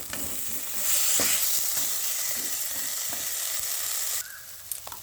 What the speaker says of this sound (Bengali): দিয়ে হালকা ভাজা ভাজা করে নিতে হবে আলুর সঙ্গে